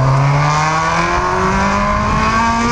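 A Honda Hornet motorcycle engine revs loud and close, climbing steadily in pitch as it accelerates, alone without talk.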